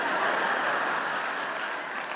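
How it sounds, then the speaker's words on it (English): A book event audience applauds in a steady, dense wash of clapping that holds even throughout and fades only slightly at the close. "Don't applaud."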